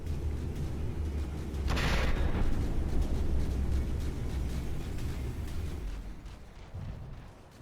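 Battleship cannons fire in the naval combat game From the Depths, a dense, continuous rumble of distant gunfire and explosions with a sharper burst near the start, gradually tapering off.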